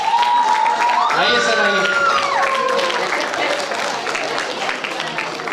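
An audience at a literature festival author meet-and-greet claps and cheers to welcome the author, a dense steady applause with scattered shouts and whoops, while a voice speaks over it.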